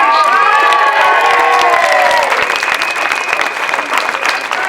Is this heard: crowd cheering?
yes